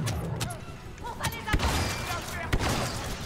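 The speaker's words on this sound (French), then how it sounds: "Grenade." A grenade goes off in Star Wars Battlefront II amid battlefield din, with sharp thudding blasts punctuating a busy layer of gunfire and game noise.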